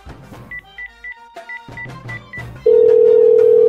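An outgoing phone call produces a few short electronic tones and chimes, followed by a loud, steady ringing tone that holds to the end, with no voices.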